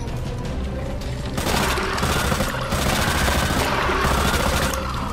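Rapid machine gun fire in the Resident Evil 2 video game rattles continuously and loudly throughout, a dense unbroken stream of shots with brief shifts in intensity.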